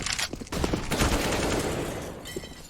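Rapid gunfire from a Counter-Strike firefight in a professional DreamHack Masters Spring 2020 match, including a headshot kill; dense, loud overlapping shots with sharp bursts throughout and no talking.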